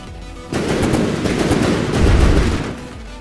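Aircraft guns in From the Depths fire in a sustained rapid burst, a loud dense rattle of shots that swells toward the end, with no talk.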